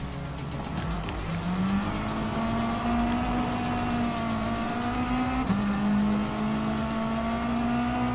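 A Subaru WRX Group B rallycross car racing in Gran Turismo Sport gives a steady, loud engine drone that climbs in pitch through the gears and shifts once partway. The engine sound runs continuously and close, with no voice over it.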